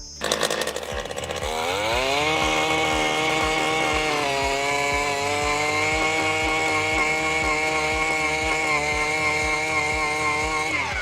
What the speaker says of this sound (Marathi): आता हे 1 फूट व्यासाचं अर्थ ऑगर स्टील BT 230 कसं काम करतं आपण बघूया.